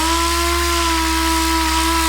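Steady, loud whine of a power sander running continuously with a constant motor hum, sanding a gas tank during restoration.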